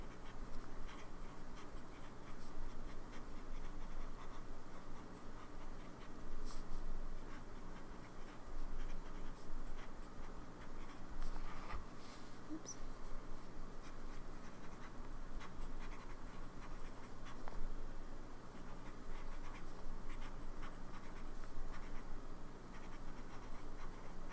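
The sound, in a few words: fountain pen writing on paper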